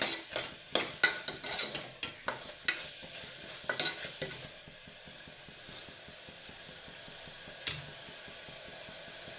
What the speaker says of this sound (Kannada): ಎಣ್ಣೆಗೆ ಮಿಕ್ಸ್ ಮಾಡಿಕೊಂಡು ಎಣ್ಣೆ ಫ್ರೈ ಆದಮೇಲೆ ಆಮೇಲೆ ನೀರು ಆ್ಯಡ್ ಮಾಡ್ತೀವಿ